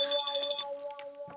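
An incoming-call ringtone on a phone in a comedic Taarak Mehta Ka Ooltah Chashmah scene chimes in a steady, bright electronic melody that cuts off partway, followed by faint room noise and a soft thump.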